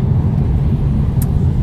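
A car driving along, steady low engine and road rumble filling the cabin evenly throughout, with no talk over it.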